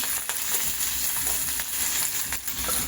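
Coarsely crushed ginger and garlic, added after curry leaves, sizzle in hot oil for a home vada pav tempering, giving a loud, continuous crackling fry with small popping bursts and no talk.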